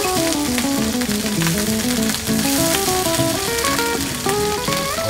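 Prawns and langoustines fry in a paella pan for a lobster rice, giving a loud, steady close-up sizzle and crackle of hot oil throughout, while faint musical tones sound in the background.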